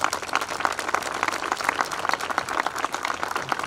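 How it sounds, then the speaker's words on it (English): An audience claps at an outdoor Memorial Day ceremony, a brisk, loud patter of many hands that keeps going evenly without pause. "So a big round of applause for all of them."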